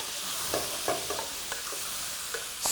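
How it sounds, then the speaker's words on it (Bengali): Soft butter sizzling in a pan with lamb stew ingredients, a continuous hiss of frying broken by several light stirring scrapes and taps, close and without talk. "এই সফট বাটার এখন এটাকে রোস্ট করবে এবং সুন্দর একটা রোস্টেড ফ্লেভার দিবে।"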